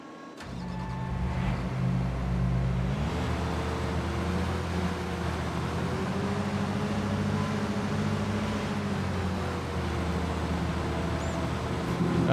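Heavy excavator tracks rumbling in Farming Simulator 22, a steady low droning engine-and-track drone that runs continuously and fairly loud, shifting slightly in pitch partway through.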